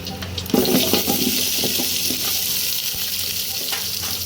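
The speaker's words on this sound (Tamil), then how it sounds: "இப்போ இதோட நம்ம கட் பண்ணி வச்சுருக்கிற வெங்காயம், பச்சை மிளகாய் எல்லாத்தையும் சேர்த்துக்கலாம்" Chopped onions and green chillies hit hot oil in a pan for veg biryani, setting off a loud rushing sizzle with a few clattering stirs.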